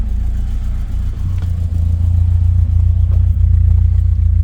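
A Ford Escort engine holds a steady rev around 3000 RPM, a loud continuous low hum and drone close by with no talk over it.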